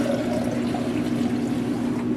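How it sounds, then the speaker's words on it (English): Warm water pours into a container of apple cider vinegar for a brine, a steady close splashing trickle with no talk. "I'm gonna add 2 cups of warm water."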